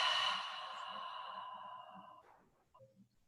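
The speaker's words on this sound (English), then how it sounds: "Big exhale." A long, deep exhale in a calm restorative yoga session, a steady rush of breath that starts strong and slowly fades over about two seconds before trailing into near silence.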